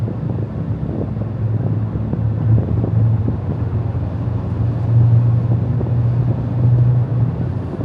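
Steady low engine rumble of a car driving, with continuous road and wind noise and gentle swells in loudness, no talking.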